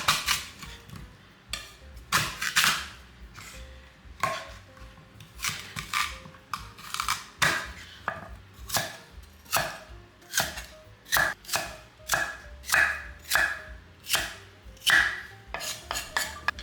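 A knife chops peeled, split lotus root into chunks on a board, a steady series of crisp, close thuds and clacks in uneven bursts over about sixteen seconds, with no talking.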